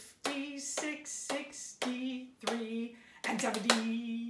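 Hands clap along to counting, a series of crisp claps in an even beat, each landing with a sung or spoken number over the top.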